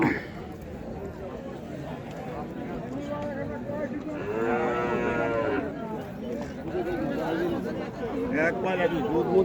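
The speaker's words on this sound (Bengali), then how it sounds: "আপনারা দেখছেন এখন আফজাল মণ্ডলের হাট, আফজাল মণ্ডলের গরুর হাট" Cattle low loudly at a busy cattle market in Faridpur district, a long drawn moo rising mid-way over constant crowd chatter and people talking nearby, with other animals calling more faintly.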